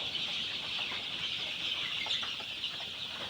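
A flock of 3,000 eighteen-day-old layer chicks on a poultry farm in Bangladesh, a dense continuous chorus of high peeping chirps filling the space at steady volume.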